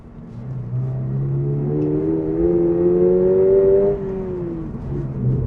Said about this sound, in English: can really feel the rear of the car starting to move as you put your foot down